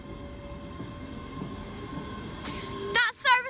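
A seven-car ScotRail passenger train on the 1407 service to Dunblane pulls out of Haymarket station. Its steady rumble and humming motor tones run throughout, and a short burst of high, chirping squeals comes near the end.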